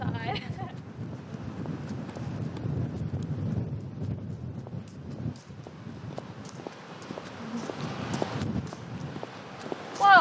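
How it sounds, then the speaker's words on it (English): Gusty outdoor wind rumbles and buffets the microphone in low surges, with sharp clicking steps and brief voices in between. "this wind's come out of nowhere"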